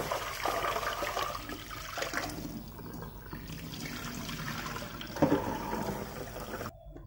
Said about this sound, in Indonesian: Beras harus kita cuci bersih dulu.